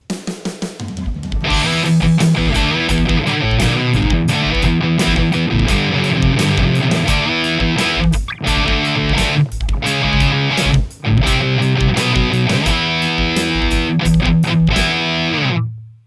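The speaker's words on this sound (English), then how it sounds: "I'm going to show you the high gain stuff I was doing earlier with my dual rectifier." High-gain electric guitar played through a Mesa Dual Rectifier amp, heavily distorted chugging riffs and chords ringing loud and continuous throughout with a few brief gaps, no talking.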